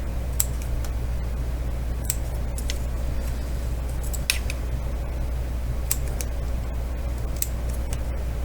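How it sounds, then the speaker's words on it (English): Scissors snip little paper tabs up to a score line for a wood bead snowman ornament, a string of sharp, separate cuts at an uneven pace over a low steady hum, close and fairly quiet. "Then we're going to cut all of these little tabs just up to the score line."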